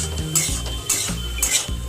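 Bottle gourd curry being stirred in a pan, with a few short scraping strokes of a spoon against the metal, a light sizzle between them, close and fairly quiet.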